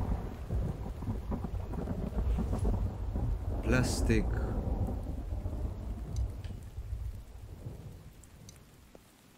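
Rain and thunder in a video game: steady rainfall patter with a loud rumbling thunder crack near the middle that fades away, while a player talks briefly over the storm.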